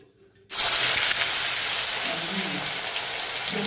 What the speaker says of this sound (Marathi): हे बोंबील आपल्याला असे कुरकुरीत डीप फ्राय करून घ्यायचे आहेत